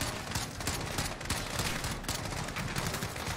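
Rapid automatic gunfire in Call of Duty Modern Warfare, dense overlapping bursts of shots with loud sharp cracks, sustained without pause across the whole stretch.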